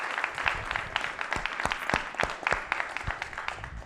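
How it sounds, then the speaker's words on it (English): Scattered applause from a modest crowd, individual claps standing out in an uneven rhythm at moderate volume. "Let's have one last round of applause for our new fellows."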